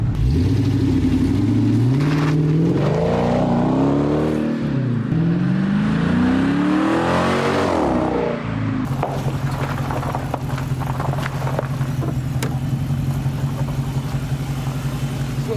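A 2018 Dodge Charger police car with an opened-up exhaust revs loudly up and down several times, then settles into a deep, steady rumbling idle, close and with no talk.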